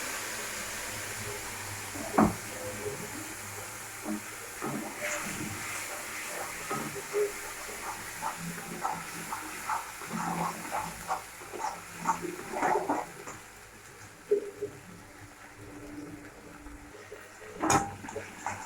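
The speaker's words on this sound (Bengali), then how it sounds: "তারপর তেলটা গরম হয়ে গেছে, মশলাটা দিয়ে দেবো।" Spice mix with black cumin poured into hot oil, giving a continuous hissing sizzle with scattered crackles and pops, fairly close and steady, without speech.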